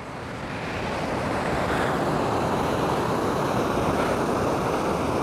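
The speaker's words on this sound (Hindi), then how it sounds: "वाह पानी बहुत जोर से आ रहा है।" Strongly flowing mountain stream water in Pahalgam, Kashmir rushes in a loud, continuous broadband roar close by, steady throughout with no voices.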